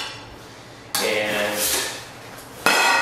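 Camping cookware being handled, an MSR Seagull plate, a frying pan and a bush pot, gives sharp metallic clatters and knocks close by, with a brief spoken word.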